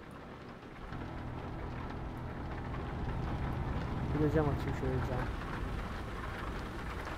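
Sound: rain in a truck driving video game

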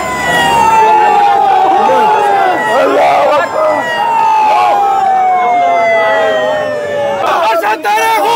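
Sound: ambulance siren arriving at hospital

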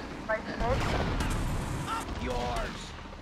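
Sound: gunfire from weapons in the video game GTA Vice City

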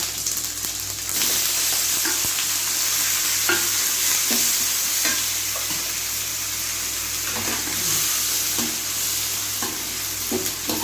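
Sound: frying tomatoes for tomato chutney

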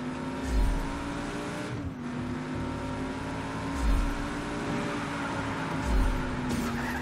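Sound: car driving in the video game Just Cause 3

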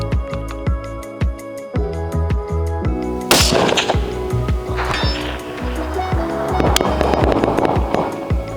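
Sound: distant sniper rifle shots

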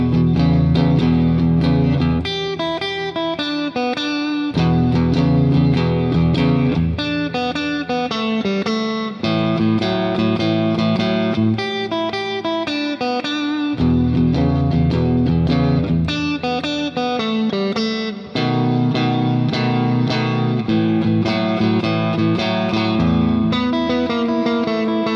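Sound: electric blues guitar with turnaround lick

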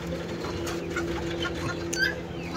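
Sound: chicken clucking

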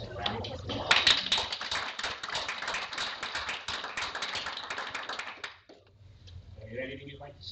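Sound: round of applause for the librarian

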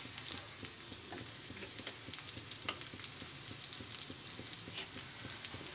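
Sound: segdalu snack frying until light brown

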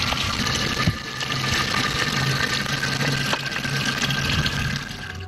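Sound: water being drawn from a village well

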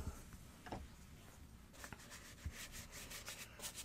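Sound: rubbing white paint into an art journal page

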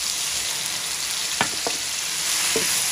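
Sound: cumin seeds sizzling in hot ghee

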